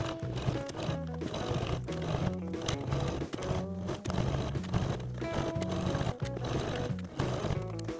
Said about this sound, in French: je couds tout le tour à 1 cm du bord.